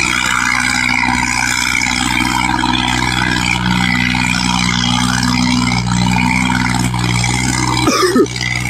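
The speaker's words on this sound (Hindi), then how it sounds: "ट्रैक्टर मिसिंग ही मार रहा चल रहा है" A running tractor engine with a misfire drones loudly and continuously close by, its low rumble holding steady before a brief jolt near the end.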